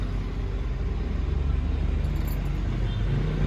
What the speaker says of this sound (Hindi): ठीक है, गाड़ी से हमारी स्टार्ट हो गई है।